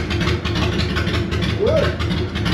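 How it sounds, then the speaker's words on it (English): A loud motorcycle engine idles with a steady low rumble throughout, with people talking over it. "The bike's so loud, bro."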